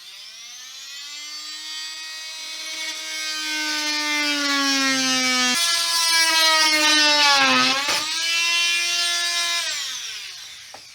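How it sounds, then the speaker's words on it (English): An oscillating multi-tool cutting an exploratory hole in the boards of a 122-year-old Victorian porch, a loud close buzzing whine that ramps up, bites into the wood with a dip in pitch, then holds and winds down. "So this is a multi-tool"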